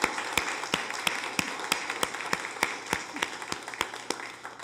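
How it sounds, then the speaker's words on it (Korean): A church congregation applauding the choir during a Sunday worship service, clapping together in a steady, even rhythm of sharp claps, moderately loud, with no voices over it. "박수하겠습니다."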